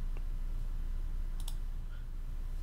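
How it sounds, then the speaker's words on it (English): A single faint mouse click sounds near the start, with another soft click later over a steady low room hum. "So I'm gonna click on sign in."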